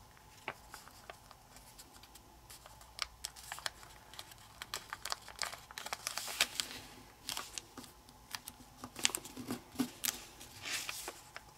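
Paper is folded into an origami praying mantis: scattered crisp crinkles, creasing swipes and small rustles, close and fairly quiet, with no voice.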